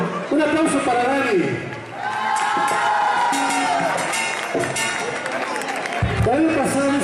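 An audience at a live music performance cheers and applauds for a singer, a dense crowd roar with shouts and whoops. A voice rises over the noise, fades in the middle and swells again near the end.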